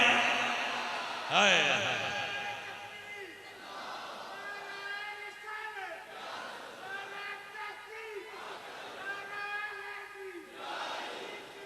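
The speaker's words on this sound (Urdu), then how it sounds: "میرے نام دے نعرے نہ ماریا کرو" A crowd at a religious speech gathering chants the name of a speaker in loud, rhythmic, repeated slogans, one call-and-response phrase after another.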